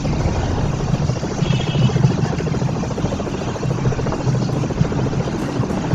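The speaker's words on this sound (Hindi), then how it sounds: "शिट हेलीकॉप्टर भी हमारे पीछे है।" A helicopter in the video game Far Cry 3 gives off a loud, continuous rotor thrum and engine buzz that stays steady throughout, close by with no speech over it.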